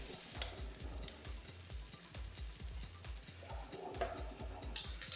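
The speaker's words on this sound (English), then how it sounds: "Pour half the egg mixture into the heated waffle iron and cook for 2 to 3 minutes." A chaffle egg mixture cooks in a heated waffle iron with a faint, steady sizzle and a rapid, regular crackle, and a few light clicks come near the end.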